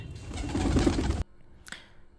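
Rooftop pigeons give a short, close, throaty coo, which stops abruptly; a brief faint chirp follows in near silence.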